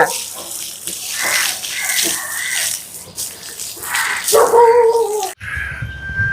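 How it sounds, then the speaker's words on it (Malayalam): Water runs from a tap into a bath being filled for washing, a steady splashing gush that fills the clip, with a brief pause near the end before a thinner stream resumes. "എന്നിട്ട് കുളിക്കാനായിട്ട് വെള്ളം വെച്ച് തരട്ടാ."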